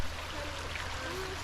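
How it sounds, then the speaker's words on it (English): Small waterfall at Fort Richardson State Park in Texas, a soft, steady rushing and splashing of water heard from a short distance, fairly faint and continuous. "The little waterfall over there."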